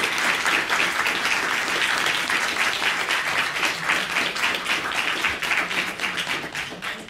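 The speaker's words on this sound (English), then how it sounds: "I think we should give a round of our applause" An audience claps steadily after a panel discussion on housing barriers for people with justice involvement, a dense, even roar of many hands sustained at full strength with no talking over it.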